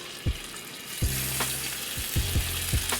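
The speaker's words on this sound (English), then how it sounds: "Once the skillet gets hot enough, we're gonna add in our steak that we shaved and seasoned." Shaved, seasoned steak for chili garlic steak noodles sizzles loudly in a hot skillet, with sharp bursts as strips hit the pan, then a steady frying hiss with occasional clatter as pieces are laid in.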